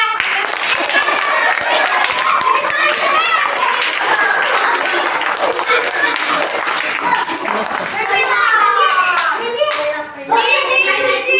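Children and adults clap together at a small home celebration, a loud, close, sustained round of applause mixed with excited voices and chatter.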